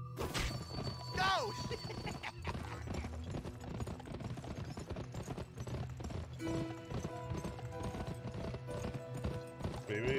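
Horse hooves galloping in the video game GUN, a steady clip-clop rhythm running throughout beneath game music and effects, with a brief whinny near the start.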